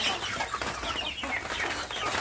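Free-range village chickens clucking close by, a busy run of short overlapping clucks and murmurs from the flock without pause, with no talk.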